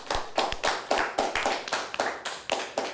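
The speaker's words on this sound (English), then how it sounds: "Let's give them a nice round of applause" Steady round of hand clapping from a quiz show studio audience, a dense run of sharp, evenly spaced claps at close range with no talking over it.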